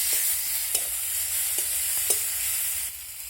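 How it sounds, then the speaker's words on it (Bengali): Tomatoes with onions frying in a pan with a little salt, a steady soft sizzle under scattered light scrapes and taps of a spoon stirring, close and even throughout. "টমেটোটাকে দিয়ে আমি নেড়ে করে ভেজে নেব"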